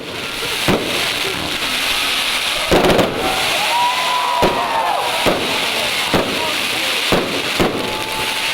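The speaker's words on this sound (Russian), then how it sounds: "Концерт, посвященный Дню государственного флага Республики Абхазия, завершился праздничным салютом." A run of loud fireworks bursts at a Flag Day celebration concert in Pitsunda, Abkhazia, each sharp boom followed by crackling, spaced a second or so apart, with faint crowd voices underneath.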